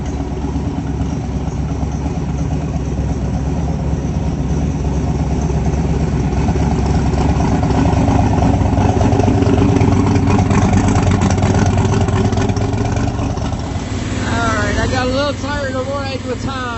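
A car engine idling rough while running on only half its cylinders, a steady low rumble heard from inside the vehicle throughout, with a rising whine near the end; a person talks over it.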